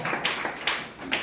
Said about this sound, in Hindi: उनके लिए जोरदार ताली हो जाए